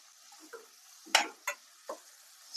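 Vegetables being stirred with garam masala, coriander and cumin powder in a pan for cutlets, a quiet background with a few sharp scraping strokes of the spoon, four or five separate short scrapes close by.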